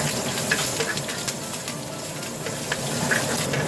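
Green chillies sauté in oil in a pan for mutton curry, giving a continuous hissing sizzle close by with a few faint stir clicks. No one speaks.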